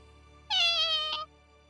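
A kitten gives a single clear, close meow lasting under a second, rising and slightly wavering, in an otherwise quiet indoor setting.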